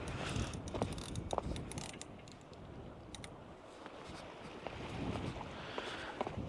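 A fishing reel's ratchet clicks in quick, faint bursts of small mechanical ticks on a shore at night, set against a low steady rumble of wind and sea.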